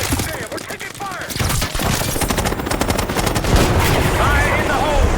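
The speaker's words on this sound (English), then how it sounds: "God damn, we're taking fire!" Dense, loud gunfire and explosive crashes fill a combat scene in the video game Call of Duty: Black Ops 6, continuous automatic bursts with booming impacts, while voices shout over the battle.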